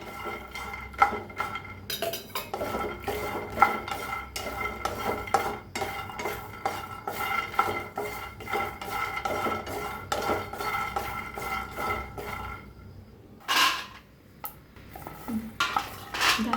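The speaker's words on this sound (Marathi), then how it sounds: "त्याच्यातच टाकूया सुकं खोबरं, खोबऱ्याला बी भाजून घ्यायचं आहे" Peanuts and dried coconut dry-roasted without oil in a pan, giving a steady, busy scraping and rattling of a spatula against metal, with clinks and stirring throughout and a brief lull near the end, no talking.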